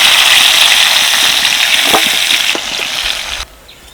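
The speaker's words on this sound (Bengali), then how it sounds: "লাউগুলো দেখো হালকা করে ভেজে নিয়েছি এবার আমি তেল থেকে তুলে দিচ্ছি" Bottle gourd pieces frying in hot oil in a kadai give a loud, steady sizzle with a few light clinks, then the hiss suddenly drops away near the end as they are lifted out of the oil.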